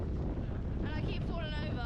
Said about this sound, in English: The wind's fucking nuts!